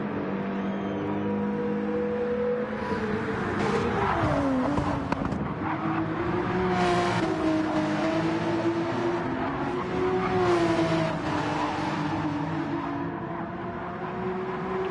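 A race car engine in Gran Turismo 7 on a fast lap at Circuit de Barcelona-Catalunya drones continuously, its pitch dipping and climbing through gear changes and corners, loud and steady throughout.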